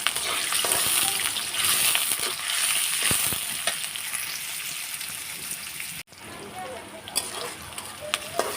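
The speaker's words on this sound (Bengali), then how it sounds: "পেঁয়াজ কুচিটা দিয়ে পেঁয়াজটাকে নেড়ে চেড়ে সুন্দর করে ভেজে" Chopped onion sizzling loudly in a pan while being stirred, a dense continuous fry with scraping spatula strokes, briefly cutting out near the end before resuming.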